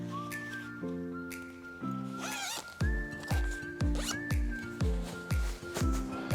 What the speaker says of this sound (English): get my paper clip and I'll zip it up.